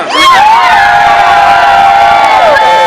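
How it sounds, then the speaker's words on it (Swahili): A large crowd of women on a tourism outing to a national park cheers, shouts and whoops loudly and continuously, close and unbroken throughout. "Kelele kwa Mama Samia."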